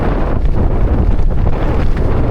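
Heavy, continuous winter wind buffeting a microphone while gravel cycling, a loud low rumbling roar with no voices.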